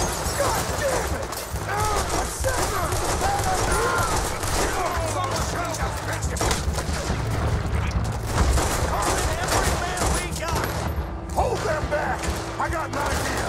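Rapid, heavy gunfire in a Red Dead Redemption 2 shootout crackles continuously, with shots overlapping into a dense fusillade, while voices shout over the fighting and hoofbeats of horses mix in.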